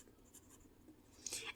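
Pen or marker strokes on a board during a chemistry lesson, faint short scratches at first, then a brighter squeaky stroke near the end, with no talk.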